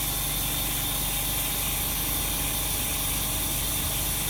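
Steady broadband hiss and hum of the vacuum system on an EN-601T flex cable laminating machine, running continuously and fairly loud with no talk over it.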